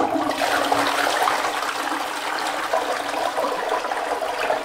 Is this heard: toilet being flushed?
yes